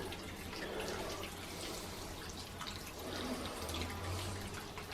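Warm water poured onto a garden plant beside a squash and pumpkin frame, a steady close splashing and trickling flow that runs continuously without pause.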